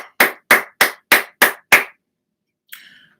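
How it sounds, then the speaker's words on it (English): A round of applause at a rap fantasy league pick: six sharp, evenly spaced claps in quick succession, loud and close, then a pause and a faint brief trailing sound. "Everybody give himself a round of applause."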